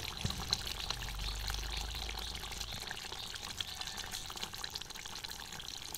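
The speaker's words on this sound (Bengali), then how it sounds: "এবার আমি এর মধ্যে দিচ্ছি একটু কাঁচা সর্ষের" Raw mustard oil poured into a finished vegetarian curry of potol and potato, a soft liquid splash and trickle at close range, fairly quiet, with no talk.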